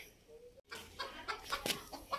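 Hens cluck softly in short scattered bursts, fairly faint and a little distant, with a few sharper calls near the end.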